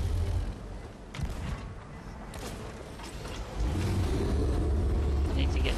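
Ship cannons firing in the pirate game Sea of Thieves during a kraken fight, heavy low booming rumble rolling under voices talking, swelling louder and steadier in the final seconds.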